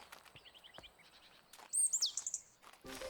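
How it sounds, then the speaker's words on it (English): Small bird chirps and tweets in the video game Botany Manor, a few faint calls followed by a louder, brighter trill, set against a quiet background. "A bird."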